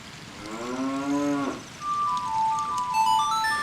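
A cow in the Ocarina of Time randomizer gives one long, low moo that rises and then cuts off, followed by brighter game chimes and jingles.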